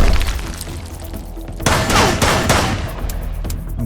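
Gunfire in the survival game Mist Survival, a rapid string of sharp shots forming loud bursts, with a heavier cluster of blasts in the middle.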